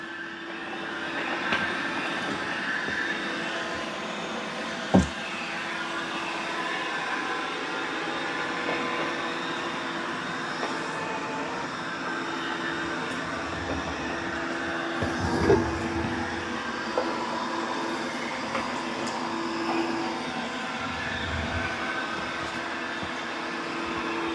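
Robot roller mop cleaning a floor, a steady low mechanical hum and whir that runs continuously for the whole stretch at moderate level, with a few soft knocks and bumps and no voices.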